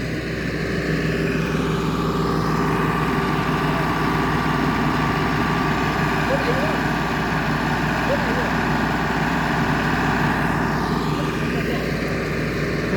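A tractor engine runs nearby with a steady, loud, droning rumble that holds an even pitch from start to finish, while voices are heard faintly underneath.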